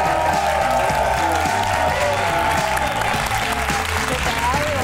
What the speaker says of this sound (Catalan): ara rebem amb un fort aplaudiment